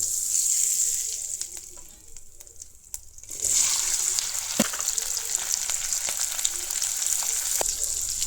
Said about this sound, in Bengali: এখানে দিয়ে দেবো তেল, খুব সামান্য দেবো জিরে, তেজপাতা, কড়াই দিয়ে দেবো একটু নুন